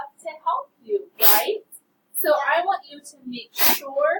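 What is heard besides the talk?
sneeze in a classroom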